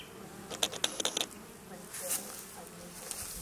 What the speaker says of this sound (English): female worker bees, some of them house bees